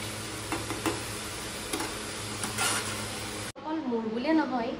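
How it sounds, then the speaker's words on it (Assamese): Cabbage frying in a wok (kadai) gives a steady, close hiss of sizzling with a few stirring scrapes, then cuts off abruptly and a voice talks. "এতিয়া বন্ধাকবি ভাজিম"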